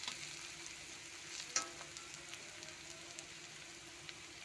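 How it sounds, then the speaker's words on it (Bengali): Ginger, garlic and green chili paste frying in hot oil over browned onions for a spicy fish curry, a faint, even sizzle with a few soft clicks and one brief clatter. "বাটা মশলাটা দিলাম, আদা রসুন কাঁচা লঙ্কা পেস্ট করে নিলাম মিক্সিতে।"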